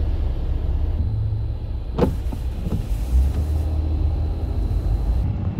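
A car drives along a road in Canada, its cabin filled with a steady low rumble of engine and tyres, broken by a couple of brief sharp knocks.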